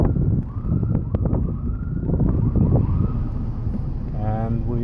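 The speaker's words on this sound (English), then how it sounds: "That's an ambulance, so those are not the cops yet." An ambulance siren rises and falls in the background, partly masked by wind buffeting and low road rumble from inside a driving Mazda Miata NB2.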